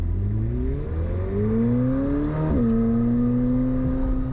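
A McLaren 750S supercar engine revs hard and close, its note climbing steadily before a quick gear shift drops the pitch and it pulls again with a loud, sustained drone.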